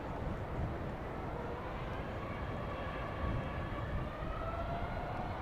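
An Air Malta airplane at Heathrow, a steady broadband engine roar with a faint rising whine, heard from a distance and holding at a constant level throughout.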